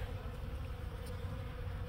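Honey bees buzzing around a backyard compost bin of vegetable scraps, coffee grounds and eggshells, a steady faint hum close by with no talking.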